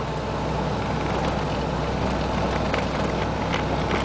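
A 1988 Isuzu Trooper truck driving in the rain, heard as a steady, continuous engine and road rumble with broadband hiss of wet tires and spray, even in level throughout with no voices.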